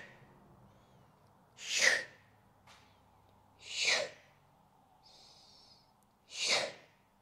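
Deep breaths during an exercise session, three strong airy exhalations spaced about two seconds apart, close and fairly loud against a quiet room, with no talking.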